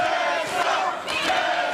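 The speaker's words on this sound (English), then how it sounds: "This capacity crowd getting behind Tessa Blanchard, and she's feeling it" Dense capacity crowd at a wrestling arena roaring and cheering for Tessa Blanchard during an intergender match, a loud continuous wall of voices with swelling shouts.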